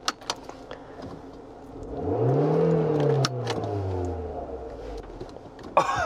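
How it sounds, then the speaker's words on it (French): A Renault Scénic's engine revs up and accelerates through a Miltech exhaust, its note rising in pitch and then falling away, with a few clicks around it. "je vais laisser place au fameux bruit de pot d'échappement Miltech là."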